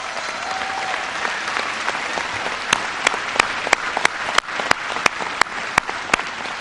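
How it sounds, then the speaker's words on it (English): An audience at a military event in Alaska honouring airmen and soldiers applauds in a dense, steady wash of clapping, with a few sharp, distinct claps standing out near the microphone. "Give them a big round of applause."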